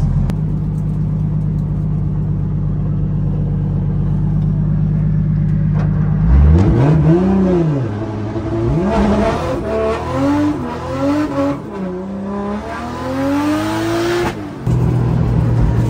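A Nissan 240 idles with a low, steady rumble, then its engine revs hard in a burnout, rising and falling in repeated loud pulls with tire noise, close by and without speech.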